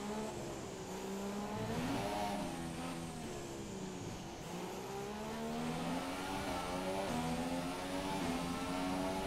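F1 2017 race car in the game, its engine droning and rising in pitch through throttle changes with tyres scrubbing, a steady close roar with no voices over it.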